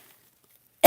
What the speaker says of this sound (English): God, stop coughing.